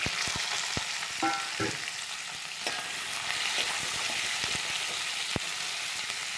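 Diced capsicum and onion sautéing for cauliflower fry masala, with a steady close sizzle and sharp spatula taps and scrapes against the pan.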